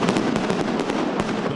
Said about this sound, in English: The fireworks confirmed it,